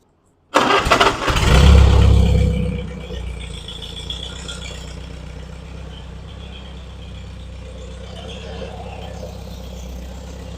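A Farmall tractor engine cranks and catches with a loud rattling roar, surges for a couple of seconds, then settles into a steady low idle running on close by.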